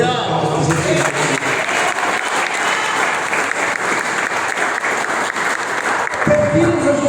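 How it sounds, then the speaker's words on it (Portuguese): A church congregation breaks into loud, sustained applause for about seven seconds, dense and steady clapping that fills the room, with a preacher's voice briefly audible over it. "Dá uma salva de palmas."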